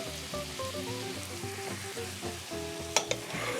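Chopped onion, leek and shallots sizzle in a pan at a steady, close hiss while a utensil stirs them in soft, regular scrapes, ending with two sharp clinks against the pan and no talking.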